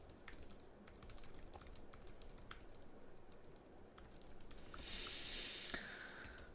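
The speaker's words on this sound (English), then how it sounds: "I'm typing." Computer keyboard typing, a steady run of light plastic key clicks at close range during an office-hours tech session, continuing for several seconds with no talking over it.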